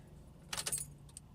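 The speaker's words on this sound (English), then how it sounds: "So, got the keys in the ignition." Keys jangle briefly against the ignition of a 2018 Toyota Tundra SR5 Double Cab 4x4, a short cluster of close metallic clinks over a quiet cabin hum.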